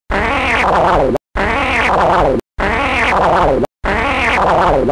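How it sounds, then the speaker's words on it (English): Four loud, close farts, each about a second long and nearly identical, come one after another with short silent gaps between them. "Stop farting."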